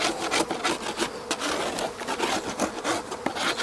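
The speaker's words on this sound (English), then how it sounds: "And then I'm just going to scrape the wax off the crown board" Beeswax is scraped off a wooden beehive crown board, giving a continuous rough, rasping scrape with repeated strokes, close and fairly loud, with a faint buzz of bees around it.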